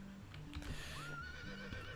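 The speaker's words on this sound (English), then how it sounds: "I hit a horse in the game." A horse whinnies in the video game The Indigo Parallel, a rising, drawn-out neigh over faint hoof clatter and low game background sounds.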